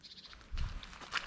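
Goats bleat in a field, with a few brief, fairly faint calls over rustling and low movement noise, likely hooves or footsteps nearby.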